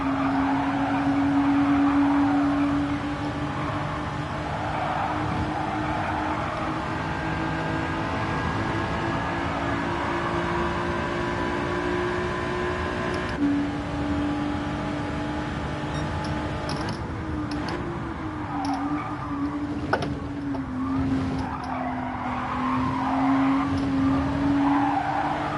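A race car driven in Gran Turismo 7 during a time trial drones steadily, its engine note rising and falling through gear changes, with some tyre noise and no talk throughout.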